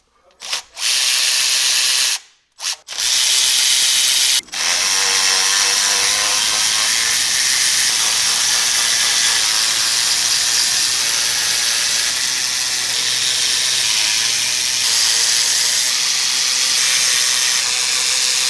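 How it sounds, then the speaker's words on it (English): An impact wrench loosens the cylinder head bolts on a 5.3L Silverado V8, starting with a few short bursts and then running as a loud, steady, harsh whir close by for over fifteen seconds. "I just use an impact to take the bolts loose to get the head off."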